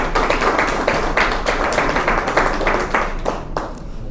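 Clapping from an audience at a conference on women's leadership in transport and logistics, a moderate run of clustered handclaps that thins toward the end.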